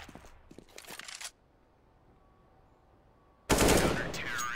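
Rapid Counter-Strike gunfire rattles on the Train map, a burst of shots, then near silence, then a louder, dense barrage that keeps ringing out; no talk over it.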